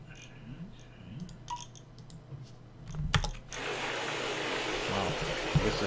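Mining machines in the video game Gold Rush The Game, a steady loud mechanical roar that kicks in partway through after scattered clicks and thumps, continuing as a dense drone.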